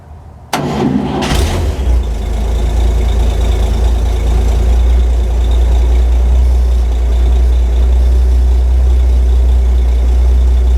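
An aircraft engine cranks briefly via a jumper wire, catches, and settles into a loud, steady low idle that rumbles on without a break.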